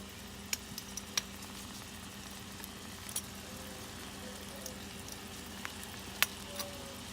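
Potatoes frying in a pan, a steady soft sizzle and crackle with occasional small pops, continuous and fairly quiet.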